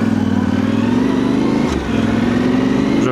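A Yamaha Tenere motorcycle's engine revs loudly and close up as it pulls away, a continuous throaty drone that rises and falls slightly in pitch, with a brief dip in the middle.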